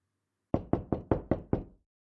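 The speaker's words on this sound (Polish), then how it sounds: "właśnie ktoś łomocze do drzwi" Six sharp knocks on a door in an even, quick rhythm, close and distinct, against near silence.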